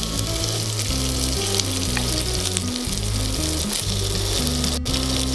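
Salmon skewers fry in butter in a hot pan for tandoori salmon kebabs, giving a loud, constant close-up sizzle over a low rhythmic musical backing, with no speech.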